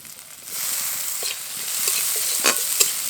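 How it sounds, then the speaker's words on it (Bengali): Chopped tomato sizzles in hot oil with green chilli, onion and capsicum while being stirred for a kachori filling; a constant hiss carries a few distinct scraping stirs and a sharp pop near the end, with no voice. "টমেটো একটু নরম হওয়া পর্যন্ত ভালো করে নেড়ে নেব।"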